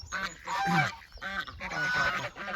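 A goose on a farm gives a few nasal honks up close, moderately loud, in a short irregular series.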